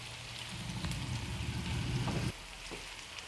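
Onions fry in a pan with a pinch of salt for a dhaba-style chicken curry, a soft crackling sizzle with a low bubbling layer that cuts out after about two seconds, quiet and close with no speech.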